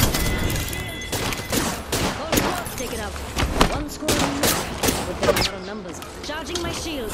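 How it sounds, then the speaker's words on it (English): Rapid bursts of gunfire from Apex Legends weapons crackle through a busy firefight, with repeated sharp shots and impacts layered over game sounds and voices talking throughout. "I'm actually shooting that guy in the fucking feet."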